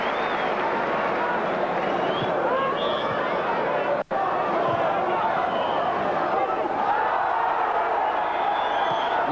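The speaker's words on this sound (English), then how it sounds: "that'll get a warm round of applause" Large football crowd at Highbury, Arsenal versus Newcastle United in a 1989 Division 1 match, giving a warm round of applause for a popular player; a dense, steady roar of clapping and crowd noise fills the whole stretch, with a brief dropout midway.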